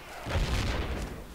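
A mortar round in Project Reality lands with a deep, heavy boom that rises after a brief quiet start, then rumbles on at a steady, moderately distant level.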